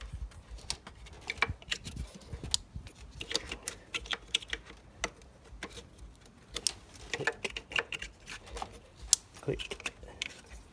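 Small plastic clicks and taps sound in an irregular scatter as coil pack connectors on a VW R36 V6 engine are pushed into place during a PCV membrane service, faint and close.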